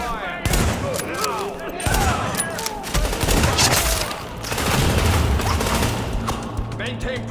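Dense gunfire rattles through a firefight in The Division on PS5, rapid overlapping shots and bursts crackling loud and continuous with a voice briefly speaking over the combat.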